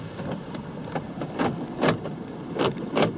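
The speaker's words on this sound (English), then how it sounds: "Power windows roll up and down in the front and the rear" A 2013 Ford Taurus police car's power windows whir up and down in the front and rear, a series of short, close mechanical motor sounds with small pauses between them.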